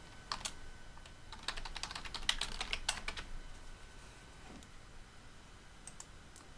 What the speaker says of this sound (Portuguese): você vai começar digitando o seu nome